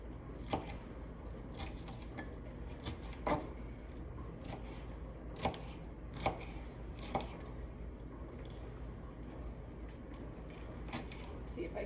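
A sharp kitchen knife slicing fajita vegetables on a cutting board, a steady series of soft close knocks and cuts spaced irregularly over a low, constant background hum, with no talking.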